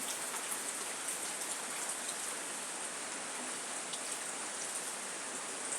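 Tap water running steadily while a cup is rinsed out at a sink, a constant, even hiss of flowing water at moderate volume with no pauses and no voices.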